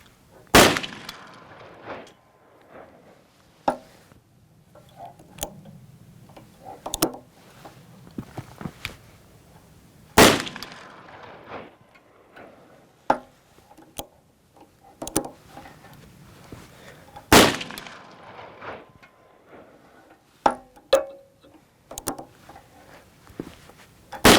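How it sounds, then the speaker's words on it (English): Four loud .44 Magnum shots from a Colt Kodiak revolver, widely spaced, each a sharp close crack, with faint handling clicks and shuffles between them and no talk. "So let's go ahead and shoot a group."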